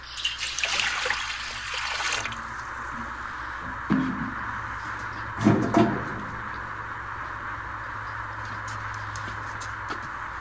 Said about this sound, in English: and then you add in some water.